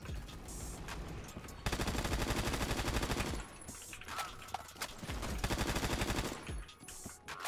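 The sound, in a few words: AKS rifle firing in Phantom Forces video game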